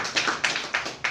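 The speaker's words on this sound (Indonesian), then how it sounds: "Tepuk tangan untuk Ma'iyah dulu ini." A short burst of applause from a crowd, with a few uneven waves of clapping, fairly close and moderately loud.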